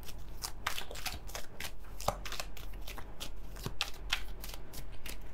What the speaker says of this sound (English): Now I'm gonna pull some cards for your past person and your new person.